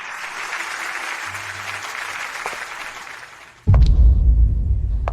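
A crowd at a birthday celebration claps to welcome the birthday star, with steady applause for several seconds before a sudden loud, booming low rumble takes over.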